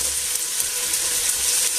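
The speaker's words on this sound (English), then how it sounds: "I'm going to add about half a small onion, chopped up, about 3 garlic cloves sliced, and a bit of red pepper" Chopped onion, sliced garlic and red pepper fry in a pan for a lentil and clam lunch, giving a steady, even sizzle with a bright hiss throughout and no talking.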